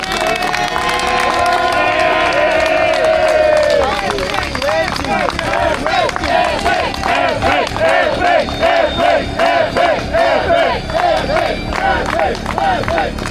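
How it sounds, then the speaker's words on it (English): A rally crowd in Aberdeen at P&J Live, protesting against the SNP, roars and cheers loudly, with a sustained chanting tone early on giving way to rhythmic shouts and clapping throughout. "so a big round of applause"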